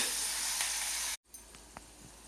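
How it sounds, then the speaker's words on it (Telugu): Onions frying in a pan on low heat until brown, giving a loud steady sizzle that cuts out abruptly midway, then returns much quieter with a few faint clicks. "ఈ ఆనియన్స్ బ్రౌన్ కలర్ వచ్చే వరకు వేపుకోవాలండి. సిమ్లోనే వేపుకుంటూ ఉండాలండి"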